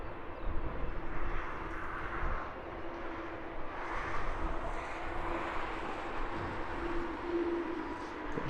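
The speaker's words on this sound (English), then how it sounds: "British Airways shuttle spooling up for departure to Newcastle" A British Airways shuttle jet spooling up at Heathrow Airport for departure to Newcastle, a distant, steady engine roar and rumble rising and swelling gently over a broad outdoor ambience.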